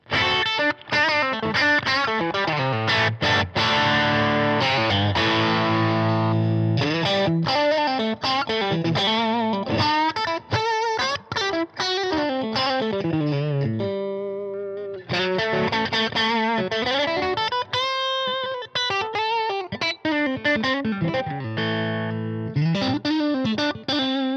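Overdriven electric guitar, a Music Man Cutlass or Sterling Cutlass, plays loud, gritty chords and riffs with a thick distorted tone, continuous and close with no talking.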